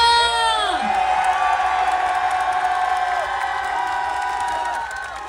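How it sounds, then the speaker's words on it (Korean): A crowd at a political rally in Korea shouts and cheers loudly and continuously, with whoops and voices rising together and a few sustained tones, close and filling the whole stretch. "더 큰 함성이 지금 필요합니다."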